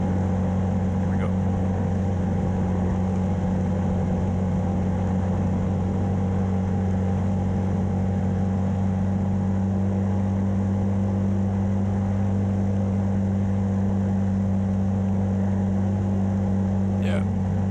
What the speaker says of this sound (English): It's pretty scary when your engine starts to do this and you're riding alone in the middle of the lake on an ancient quad